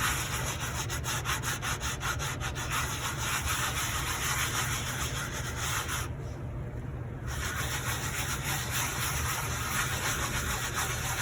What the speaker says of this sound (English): I'll just take another portion of my dish towel here, get some on, and rub it in